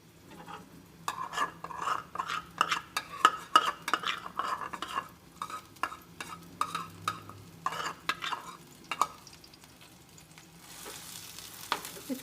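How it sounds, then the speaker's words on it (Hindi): Green onions stirred into melted ghee in a pan for an omelette, with a rhythmic run of spoon scrapes and clinks against the metal over a soft sizzle, the stirring stopping and leaving only faint frying at the end. "सबसे पहले अब हम इसमें ग्रीन प्याज शामिल करते हैं।"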